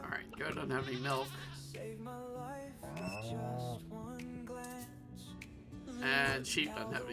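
A sheep bleats in Stardew Valley, several wavering bleats in a row over light game sounds while someone talks.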